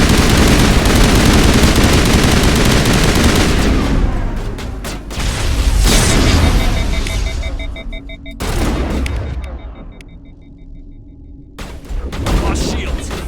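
Gunfire in Mass Effect, with dense loud automatic bursts at first, then thinning into scattered single shots separated by brief silent gaps.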